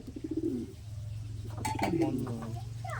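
Madrasi pigeon cooing close up, with a few soft throaty coos over a low steady hum.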